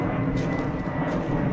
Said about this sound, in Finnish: Nuuksion haittapuoli, nää lentokoneet.